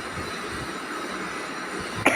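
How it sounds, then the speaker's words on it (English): A single short cough sounds near the end, sharp and close, after a steady low background hum with no talking. "Sorry for coughing."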